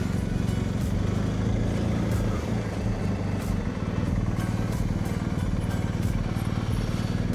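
BMW GS motorcycle ride with a steady engine drone and wind rumble throughout, holding an even level, heard from on board the bike with no talking.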